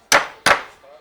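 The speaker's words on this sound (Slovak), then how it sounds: "Chyť si do druhej kladivko. No a tuto buch." Two sharp hammer blows struck a few tenths of a second apart with a small hammer at home, each a close, bright knock, followed by a faint voice.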